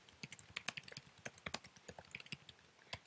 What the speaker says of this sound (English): then I'm going to click Tab and start typing